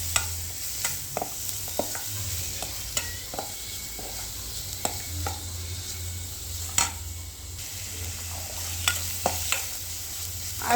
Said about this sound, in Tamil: இந்த வெங்காயமும் இந்த பச்சை மிளகாயும் இதில் சேர்த்துக்கிறோம். நம்ம சேர்த்து இதையும் நல்லா வதக்கிக்கிறோம்.